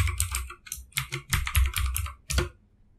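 Someone types a username and password on a computer keyboard, with quick bursts of close, crisp key clicks separated by short pauses before the typing stops.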